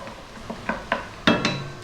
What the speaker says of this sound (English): About 90 seconds stirring this around.